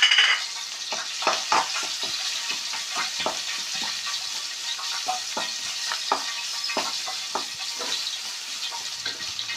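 Grated coconut frying in a spoonful of coconut oil in a clay pot, a close continuous sizzle broken by repeated scraping strokes of a stirring spoon in an uneven rhythm, no voices.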